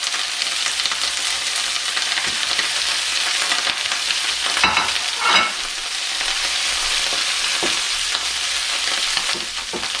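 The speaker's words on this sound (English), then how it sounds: "now we're ready to put our shrimp in. We're going to cook them for about a couple minutes to 3 minutes on each side." Shrimp fry in a hot pan with a steady, loud sizzle and crackle throughout, with a brief stir or shift of the food midway and no voices.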